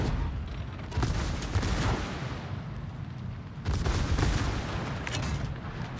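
Torpedoes launching during a naval battle in a video game, heard as a dense rumble of bursts and booms with two strong surges of firing, no talk over it.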